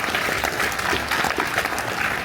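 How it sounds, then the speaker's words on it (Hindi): A crowd at a district-level youth panchayat event in Gudia Kheda gives steady, dense applause, many hands clapping continuously throughout at a fairly loud, even level. "सभी ताली बजाएंगे इसके लिए।"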